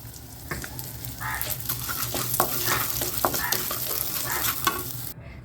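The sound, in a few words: dry roasting urad dal in a pan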